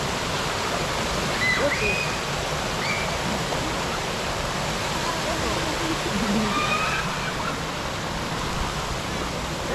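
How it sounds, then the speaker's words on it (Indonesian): Wafsarak waterfall in north Biak, Papua, roaring as a steady, dense wash of falling water that fills the whole clip, with a brief spoken word barely audible beneath it. "saya sekarang berada di Air Terjun Warta"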